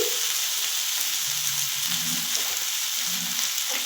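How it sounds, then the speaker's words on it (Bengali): Broad beans tossed with spices in a hot pan for shim begun ghonto give off a constant loud close sizzle, with soft stirring scrapes underneath and no talking. "সিমটা দিয়ে এবার মশলাটার সঙ্গে একটু কষিয়ে নেবো"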